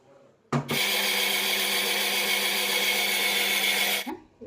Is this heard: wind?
no